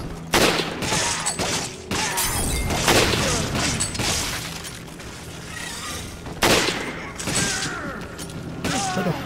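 Dense gunfire in the co-op video game Resident Evil 5, with repeated loud shots and bursts, metallic clatter and impacts running throughout, briefly pausing around two and six seconds, over a steady game backdrop.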